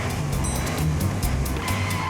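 Car skidding and spinning a full 180 on a snowy road, a steady loud tire and engine rush with repeated brief hissing bursts, heard close and alone.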